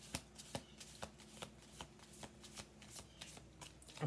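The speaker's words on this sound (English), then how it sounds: "We're going to do 2 more shuffles." Repeated crisp riffling bursts of oracle or tarot cards being shuffled, about ten quick snaps at a steady rhythm, close and fairly quiet with no talking.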